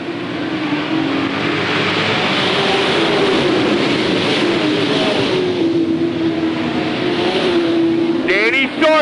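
Sportsman-class stock cars racing at Hales Corners Speedway, a loud sustained engine drone with shifting pitch as cars pass, continuous throughout, with a brief sharper whine near the end.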